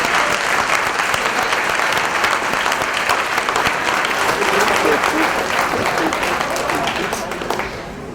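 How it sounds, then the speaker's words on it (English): A room of guests at a school district retirement and service awards dinner applauds for the retirees, sustained dense clapping with crowd murmur and a few voices, tapering off near the end. "Let's have another round of applause for our retirees."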